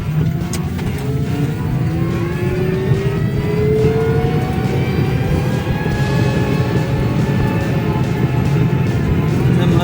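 A budget electric car pulls away on a test drive in Kyiv, its motor whine climbing steadily in pitch over loud, continuous tyre and road rumble heard from inside the cabin.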